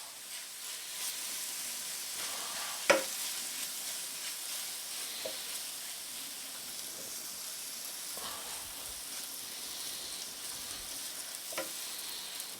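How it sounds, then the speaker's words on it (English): Stuffed mushroom filling fries and sizzles in a pan while being stirred, a soft steady hiss broken by occasional utensil scrapes and one sharper clack, with no voices. "And now you want to stir this and you want to cook it all together,"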